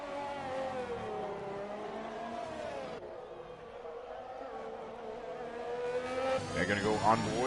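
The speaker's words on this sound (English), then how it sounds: "After the 100-meter board, he goes down to second gear, short shifts into third." Formula One car engine from a racing video game on a hot qualifying lap in Mexico, a high-pitched whine that steps down through sharp downshifts, then revs rise again in short upshifts, loud and close under commentary.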